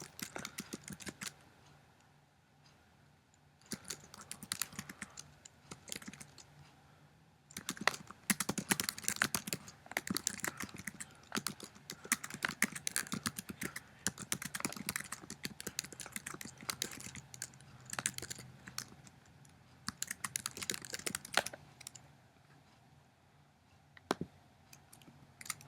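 Fingers type on a computer keyboard for about twenty-five seconds, a dense, quiet patter of rapid key clicks with short pauses, close and alone without talk.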